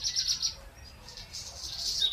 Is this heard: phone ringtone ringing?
no